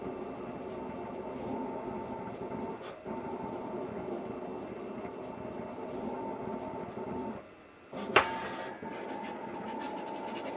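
An HP Latex 115 print-and-cut machine runs a perf cut line, giving a steady mechanical rolling whir with a rattling, rhythmic clatter, a brief dip near the end, then a sharp clack as it resumes.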